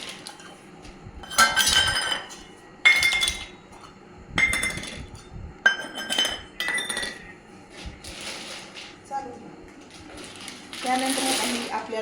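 Steel utensils, plates and cooking pots from a government-issued worker's kitchen set clink and clatter as they are handled, in repeated bright bursts with short pauses between.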